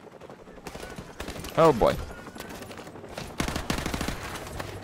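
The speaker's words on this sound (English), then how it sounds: "Got five guys shooting at one dude, and you can't manage to put him down." Repeated bursts of gunfire from several weapons in Modern Warfare Remastered, with five players firing on one enemy; loud volleys run through most of the clip over game noise, with a brief spoken exclamation near the middle.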